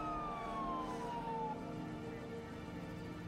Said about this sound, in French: Après le départ de l'ambulance